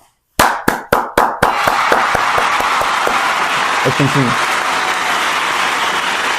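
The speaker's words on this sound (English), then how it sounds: "Give yourself a round of applause." An audience gives a round of applause at a spoken affirmation session. It opens with several sharp, loud claps, then swells into sustained, dense clapping from a crowd, with a voice speaking briefly near the end.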